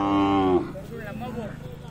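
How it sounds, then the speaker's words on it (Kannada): A calf at the Siddaganga cattle fair lets out one loud, close moo lasting about half a second, followed by fair hubbub and voices talking in the background. "ಅವು ಕರುಗಳು"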